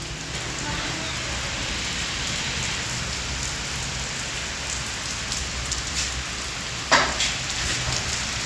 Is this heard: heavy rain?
yes